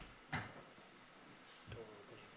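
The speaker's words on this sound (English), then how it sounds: "Door opening." A turbocharged Honda Accord's car door makes two faint, separate clunks roughly a second and a half apart, quiet against a light background hiss.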